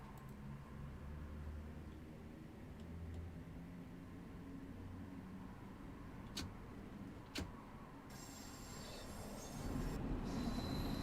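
A Bakerloo Line train in Train Sim World 2 rolls slowly into a platform, low rumbling wheels and motor with a few sharp clicks and a high squeal of wheels toward the end.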